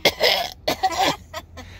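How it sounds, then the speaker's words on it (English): A person coughs in a short burst of three or four sharp, close coughs, loud and separated by brief pauses. "Sorry, it was coughing."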